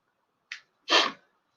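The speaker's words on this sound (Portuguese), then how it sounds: "Amanhã eu não vou estar fungando." A person sniffling: two quick nasal bursts close up, a short light one followed by a stronger, breathy snort, with silence around them and no talking.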